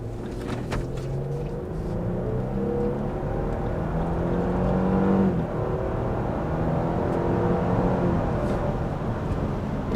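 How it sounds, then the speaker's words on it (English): Lexus GX 550 Overtrail engine accelerating on a straight road in normal mode rather than sport, a continuous rising drone with road and tyre noise, steady and fairly loud throughout, no talking. "then I'll show you what the engine sounds like without sport"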